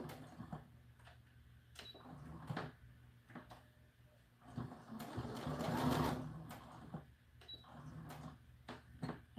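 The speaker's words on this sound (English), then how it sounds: "we're just going to sew on the very edge of this." A sewing machine stitches along the very edge of a doll dress fabric, running in uneven stretches with clicks and ticks between them and a denser, louder run in the middle, all fairly close and unaccompanied by talk.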